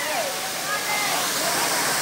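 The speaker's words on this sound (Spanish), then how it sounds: "Son cataratas de agua hirviendo, como yo les digo" A waterfall of hot spring water at Rio Dulce, El Estor, Guatemala, rushing in a loud, steady roar with no break.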